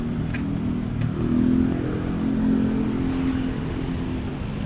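A Honda HR-V Prestige engine runs at a steady idle, giving a continuous low hum with slight swells and no speech over it.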